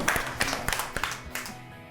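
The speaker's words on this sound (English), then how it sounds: "let's give you a clap because you've done really well" A class claps hands in a short burst, with sharp, separate claps close together that fade out toward the end.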